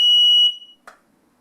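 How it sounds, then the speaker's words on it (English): A SmokeSight SS10MAMA smoke alarm sounding during a test-button press: one loud, piercing high beep about half a second long, then a brief click, then silence. "Test the smoke alarm by pressing the test button to confirm sounder operation and red LED"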